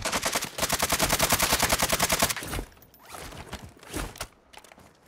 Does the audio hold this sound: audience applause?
no